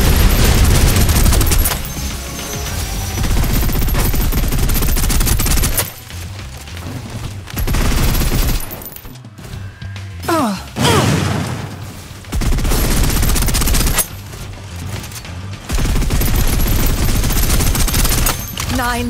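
Sustained bursts of automatic gunfire in the shooter game Snowbreak: Containment Zone, loud and dense, broken by brief pauses into several long volleys with booming impacts, and no talk over it.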